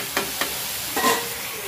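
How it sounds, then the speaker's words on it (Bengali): Potato and bitter gourd pieces fry in a pan, sizzling steadily and loudly, with a few knocks and scrapes as they are stirred. "এই যে চলছে আমার আলু করলা ভাজা"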